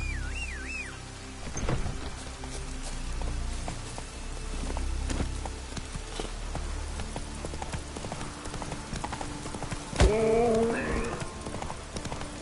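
Roach the horse clip-clopping along in The Witcher 3, steady close hoofbeats in a walking rhythm over ambient game sounds, with a brief snort or whinny near the end and no talk.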